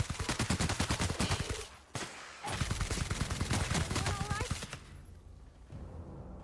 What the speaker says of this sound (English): Something shooting at me?